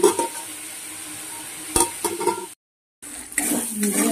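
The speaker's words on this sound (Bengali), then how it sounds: "আলুটা ভাজতে ভালো, ওল আর আলু একসাথে দিয়ে সমস্ত মশলাগুলো দিয়ে দিয়েছি" Elephant foot yam and potato with spices fry in a pan with a moderate sizzle and several sharp utensil clinks and scrapes, cut by a brief complete gap before the sizzling resumes.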